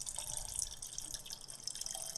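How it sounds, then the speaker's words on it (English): Liquid anesthesia pours and trickles steadily into a cone, a close, continuous splashing with faint drips throughout. "Pour the anesthesia into the cone."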